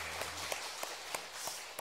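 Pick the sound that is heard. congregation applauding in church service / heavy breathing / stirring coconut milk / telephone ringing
congregation applauding in church service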